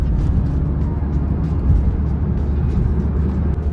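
A manual Honda Jazz GK5 with an aftermarket full-system exhaust (downpipe, front pipe, resonator and muffler) gives a steady, deep, fairly loud rumble close by, with no clear speech over it.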